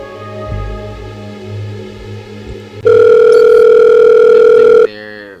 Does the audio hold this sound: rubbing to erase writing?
no